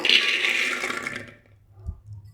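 Soaked chickpeas rinsed in water in a home kitchen, a loud rushing splash of pouring water that fades out, then a few faint wet knocks and clinks.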